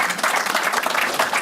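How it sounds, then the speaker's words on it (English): A brief, steady burst of audience applause for panelists at an early-morning talk on apartment investment strategies, with dense clapping throughout. "let's give a big round of applause to our panelists."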